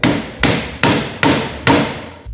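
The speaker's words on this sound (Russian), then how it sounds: "Если же клин слишком толстый, то вы можете его загнать легкими ударами киянки." A wooden mallet lightly taps the wedge of a hand plane, with five evenly spaced, sharp knocks, each fading quickly, close and clear with no talk.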